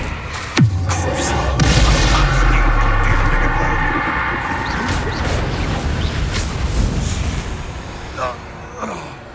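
In the video game Hogwarts Legacy, the Bombarda spell goes off as a loud explosion with a deep, rumbling boom, followed by layered game effects and rushing sounds that fade over several seconds.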